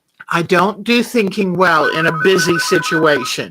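A phone ringtone plays steadily beneath continuous talk during a quilting session, partly masked by the speaker's voice.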